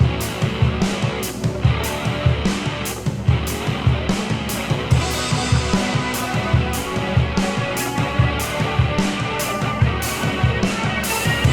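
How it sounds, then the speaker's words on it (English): Drums and electric guitars of a rock song played together in a studio mix, a steady driving beat with regular hits under a dense, continuous guitar wash, loud and full throughout with no voices. "So now drums and guitars together sound like this."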